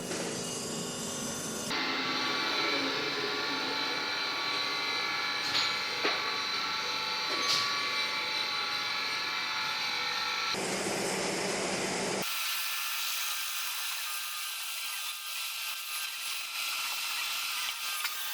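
A drill bores a 10.8 mm hole for the spark plug thread in a welded cylinder head from an Infiniti FX50 VK50VE 5-litre engine, a steady loud whirring grind that runs continuously, shifting in tone partway through and thinning toward the end.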